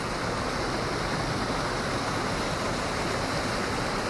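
Rough water rushes loudly and continuously below rocks at the edge of Crater Lake in Oregon, a dense, close, unbroken roar with no voices.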